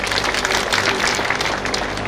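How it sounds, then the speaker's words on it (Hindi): Audience applause at a blood donation camp held in honor of a martyr: dense, steady clapping from a gathered crowd, loud and continuous throughout with no voices. "अब एक बार तालियां बजा दिए शानदार।"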